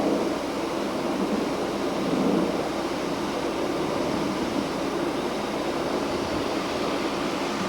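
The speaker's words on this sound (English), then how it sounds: "and you hear planes overhead" Airplanes flying overhead near a naval base, a steady, distant broadband roar that holds evenly throughout with no voices.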